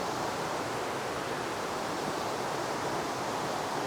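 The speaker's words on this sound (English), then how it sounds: "the river just underneath me is gushing quite wildly" A river gushes wildly below a small cliff, a loud, steady, broadband roar of rushing water with no pauses or other sounds.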